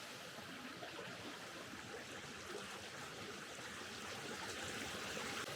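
A river in autumn woodland rushes with a steady, full-bodied wash of flowing water, continuous and unbroken, with no voices.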